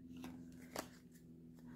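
Playing cards for a solo tabletop card game being shuffled by hand, a faint, soft riffling with a brief crisper snap partway through, heard alone in a quiet room.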